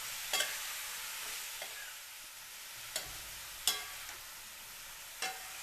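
Cabbage and potatoes being stirred in a frying pan, with a few sharp scraping clinks of the utensil standing out over a faint steady sizzle.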